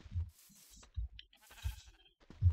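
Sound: sheep bleating in Minecraft video game

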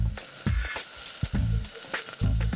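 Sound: sautéing food in a pan

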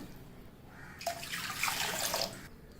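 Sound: water poured into cooker vessel or kadai

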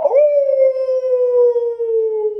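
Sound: person howling, imitating a dog howl

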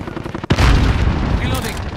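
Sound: cruise missile explosion in Call of Duty video game

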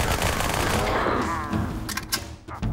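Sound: Halo 2 battle rifle firing, from a video game

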